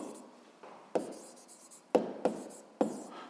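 Pen writing notes by hand during a physics lesson: sharp scratchy strokes in quick separate bursts, close and fairly quiet, with no voices.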